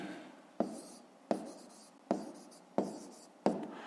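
A pen taps and scratches on paper during a fifth-grade math exercise, making five evenly spaced sharp strokes over a quiet room.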